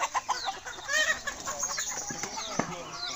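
Rhode Island Red chickens on a layer poultry farm cluck and chatter in a busy, overlapping flock, with short calls close by and more birds behind them, steady and moderately loud.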